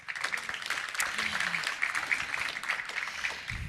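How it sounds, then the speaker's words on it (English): A conference audience applauds steadily at a venture capital event, the clapping dense and sustained throughout with a faint voice beneath it. "give them a warm hand of applause"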